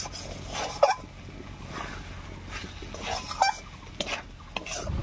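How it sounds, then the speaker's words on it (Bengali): Mashed lentil paste being stirred in a pan with bitter gourd and green chillies, giving soft scraping and a few metallic clinks of utensil against the pot, close and fairly quiet. "নাড়িয়ে চাড়িয়ে ভালো করে রান্না করে নিচ্ছি"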